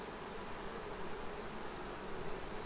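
Honeybees in an open hive, one of whose queen cells has been torn open, keep up a dense, steady buzz close by, with no pauses and no talking.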